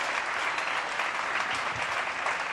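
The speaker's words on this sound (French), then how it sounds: "applaudissements déjà" Studio audience applauding on a French television variety show, a dense, steady wash of clapping that fills the whole moment without any voices on top.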